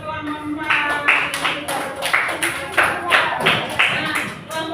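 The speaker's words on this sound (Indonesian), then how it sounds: "tepuk tangan untuk kelompok 4" A small group in an elementary school classroom claps in steady rhythmic bursts, close and lively, with voices mixed in beneath the applause.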